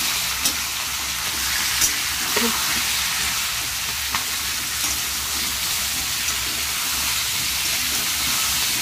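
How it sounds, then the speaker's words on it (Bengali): Green peas fry gently in a pan, giving a steady soft sizzle and hiss with a few faint clicks of stirring throughout. "হালকা হালকা ভেজে নেব।"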